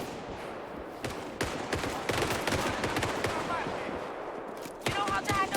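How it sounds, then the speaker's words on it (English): Bursts of machine gun fire in the Indiana Jones and the Great Circle video game, rapid repeated shots in several volleys, moderately loud over a low background, with faint speech. "That's a machine gun."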